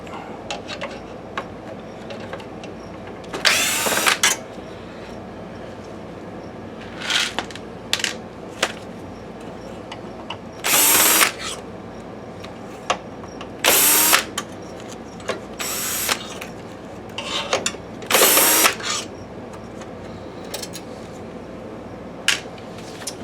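A drill driver backs screws out of a BenQ W6000 DLP projector in short whirring bursts scattered over quiet handling, with small clicks and rattles of screws and plastic between them, close up.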